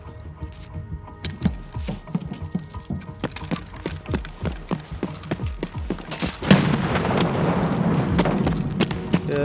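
A grenade explodes in a wipe-day raid shooter, a sudden loud burst after a run of scattered thumps and gunfire, followed by a sustained rumbling wash of noise.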